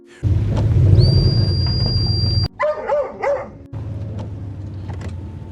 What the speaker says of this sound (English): their dog begins barking frantically